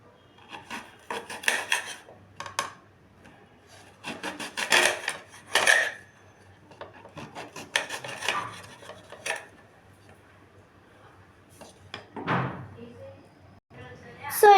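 Mango being cut into pieces with a knife, giving irregular scraping and chopping strokes in bursts, with pauses between, ending on a sharper knock.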